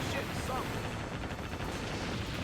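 Warship guns firing a salvo in the naval combat game Warship Gunner 2: a dense, continuous barrage of loud booms and blasts rolling together without pause, with a voice faintly mixed in.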